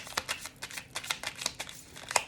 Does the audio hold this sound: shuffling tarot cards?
yes